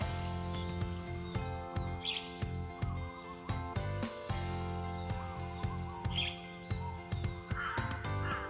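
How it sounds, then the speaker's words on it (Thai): Several crows caw repeatedly outdoors, their harsh overlapping calls forming a dense, continuous chorus at moderate loudness, with fainter chirps from other birds mixed in and no talking. "นี่เป็นนกอีกาทั้งนั้นเลย"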